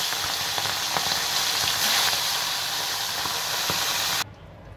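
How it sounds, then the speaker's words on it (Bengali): Pomfret fish frying in hot oil, a steady, dense sizzle with crackling pops that holds at full strength before dropping suddenly to a faint hiss near the end. "এই মাছগুলোকে আমি প্রথমে ভেজে নিচ্ছি।"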